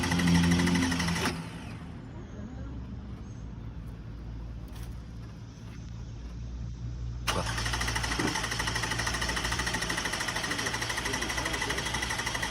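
A Lexus engine cranks on a jump box at a towing auction without firing, a steady mechanical churning that fades after the first second and returns louder and continuous for the last five seconds.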